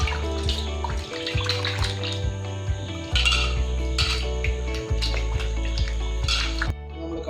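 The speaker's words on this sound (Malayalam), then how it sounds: "ഇനി നമുക്കിത് നല്ലപോലെ കഴുകിയെടുക്കണം." Peeled potatoes are washed in water to rinse off starch. Water splashes and sloshes continuously, with clinks and drips throughout, close and fairly loud, with no talking.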